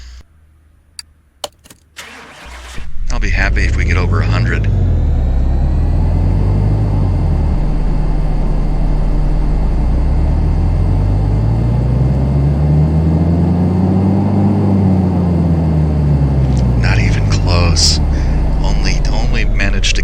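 A car engine in Car Mechanic Simulator 2018, a junkyard pickup with a factory rating of about 60 horsepower, starts with clicks and then revs loudly and steadily on a dyno, rising and falling in long sweeps, with a voice over the start.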